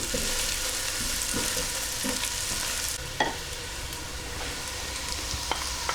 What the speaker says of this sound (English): we're just going to cook these onions through for about 3 or 4 minutes, just until they start to go soft